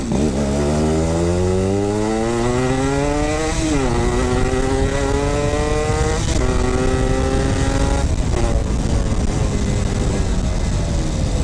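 A 1993 Yamaha RX King two-stroke motorcycle revs hard and loud nearby, its raspy engine note climbing repeatedly through the gears, with brief drops between pulls.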